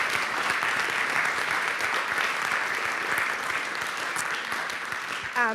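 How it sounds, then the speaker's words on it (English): An audience claps for panelists and organizers at a community event, steady dense applause throughout that thins out near the end. "can we give our panelists and organizers of this event another round of applause?"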